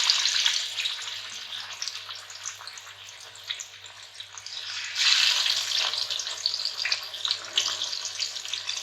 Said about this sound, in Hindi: गर्म हो चुका है, अब हम मछली को इसके अंदर रखेंगे।